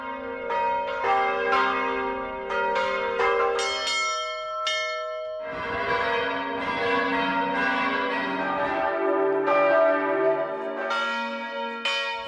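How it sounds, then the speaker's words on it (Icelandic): Church bells ring across Iceland in a call for peace, several bells struck in overlapping, irregular peals that hum and decay richly, clear and unaccompanied by any voices, with a brief lull before the ringing swells again. "Að sjálfsögðu þá erum við að hringja kirkjuklukkum fyrir friði í heimi"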